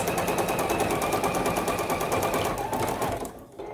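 A sewing machine stitches a zigzag around an appliqué on a quilt block with a fast, even mechanical chatter, close and steady, slowing and stopping near the end.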